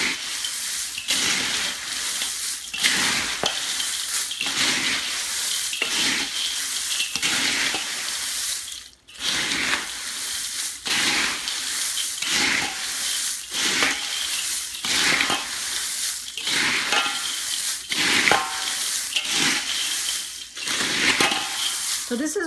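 A big pan of Indian chevro snack mix is stirred over and over, giving a steady run of crunchy, rustling scrapes in a repeating rhythm, loud and close, with a brief pause partway through.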